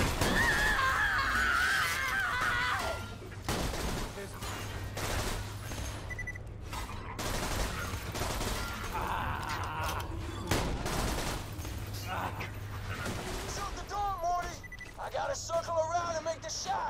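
Rapid bursts of auto cannon gunfire and explosions rattle through a noisy, chaotic battle in the video game Borderlands 2, with a steady low hum and occasional electronic tones.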